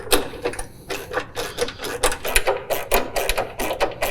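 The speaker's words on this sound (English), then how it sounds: "This is where our 13mm wrench and socket and ratchet is going to come in handy." A ratchet with a 13mm socket tightens bolts while a John Deere mower weather enclosure is installed, giving quick, evenly spaced clicking strokes close up for about four seconds.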